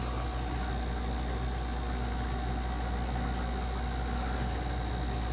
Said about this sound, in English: the compressor is running, but I don't have enough pressure to kick on my fan